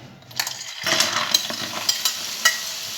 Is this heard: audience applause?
no